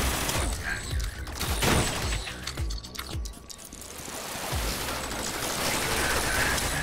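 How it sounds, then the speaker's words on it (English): Shotgun blasts and gunfire in the Rec Room video game, loud bursts over a busy mechanical clatter, with players talking and shouting throughout. "I think it's a shotgun"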